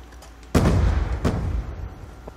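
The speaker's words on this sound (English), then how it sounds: "And I just got fucking blown up by C4." A C4 charge detonates in Black Ops 2 multiplayer: one sudden loud blast that booms and rumbles for a second or more, with a smaller second burst soon after over a low game-noise bed.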